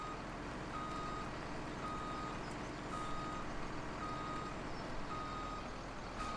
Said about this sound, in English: I'll get the truck,